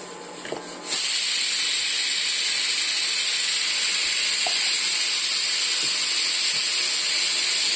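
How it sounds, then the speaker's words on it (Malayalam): A loud, continuous hiss of steam jets from a pressure cooker, starting abruptly after a second and holding steady without pause. "അതിൻ്റെ ശബ്ദമാണ്, കുക്കറിൻ്റെ ശബ്ദമാക്കിയിരിക്കുന്നത്"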